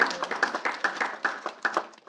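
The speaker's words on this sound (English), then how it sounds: "Students, let's give your parents and family a round of applause for all of their support of you" Students at a school board meeting give a round of applause for their parents, with quick, fairly sparse clapping from a modest group that fades slightly toward the end.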